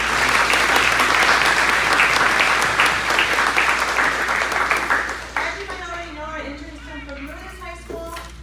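An audience at a business showcase gives loud, dense applause for about five seconds for the event's business sponsors. The clapping then thins out as a voice begins speaking.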